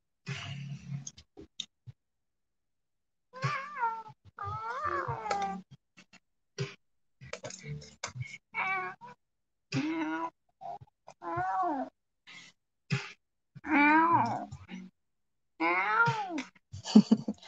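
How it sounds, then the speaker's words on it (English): A cat meows repeatedly in short, wavering calls with pauses between them, fairly close and clear, with a few soft clicks and thumps around it. "Did it say meow? Meow."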